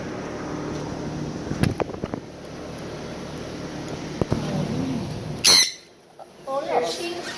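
A cockatiel in a car gives sharp squawks and chirps over steady road noise, with a loud burst near the end followed by a brief hush, while people talk nearby.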